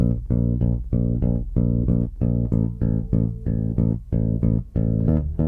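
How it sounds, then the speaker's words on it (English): Bass guitar plucks short, dampened eighth notes in a steady rhythm, each note clipped with small gaps between them, punchy and close. "if you're playing it with this more of a dampened or staccato"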